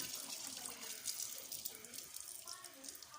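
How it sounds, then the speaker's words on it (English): Lukewarm tap water runs steadily into a sink as tripe is rinsed, a close hissing, splashing stream with small slaps and gurgles throughout. "I'm washing it with hot water, not cold water."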